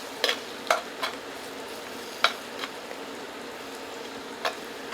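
Garlic cloves frying with onions for Gullah-style red rice, a soft sizzle under a handful of sharp, scattered spatula taps and scrapes against the pan, near and otherwise quiet.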